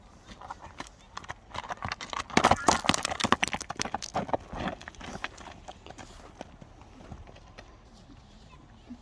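Hooves of a horse named Zaka clip-clop at an outdoor horse showing, a quickening run of close, irregular hoof strikes that peaks and then fades to scattered steps, with people talking throughout.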